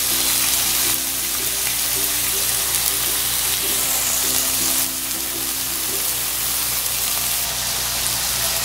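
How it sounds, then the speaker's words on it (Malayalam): Chicken pieces for butter chicken masala shallow frying in a pan over medium heat, a steady loud sizzle and crackle of oil continuing throughout with no talking. "ഷാലോ ഫ്രൈ ചെയ്തിട്ട് എടുക്കാം."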